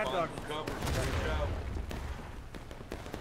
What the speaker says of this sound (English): Good artillery shot.